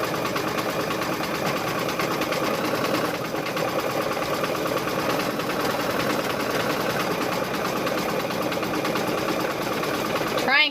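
A sewing machine stitches quilt pieces together in a fast, steady mechanical whir that runs loud and close without pause.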